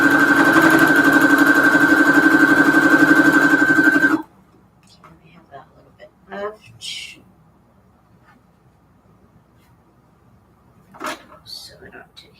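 Fabric scraps are stitched on a home sewing machine, a loud, steady close-up motor hum with fast even needle pulsing for about four seconds. It stops abruptly, followed by quiet handling and a few brief sounds.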